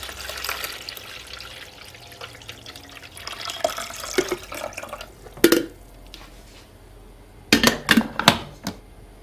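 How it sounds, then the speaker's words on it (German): Water is poured into a coffee machine, with a soft trickle and splash alongside light plastic clacks and a few sharper knocks up close. "Zuerst kommt Wasser in die Kaffeemaschine."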